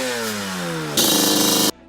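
A Yamaha Banshee ATV's twin-cylinder two-stroke engine from the RD350 sounds a falling, buzzy tone, then snaps into a loud, harsh rev for under a second before cutting off sharply.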